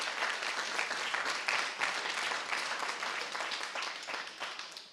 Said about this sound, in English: let's give this esteemed panel a great big round of applause